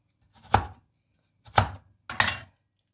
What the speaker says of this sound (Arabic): انا عايزه اقطع الفلفل تخين، اللفت تخين كده اهو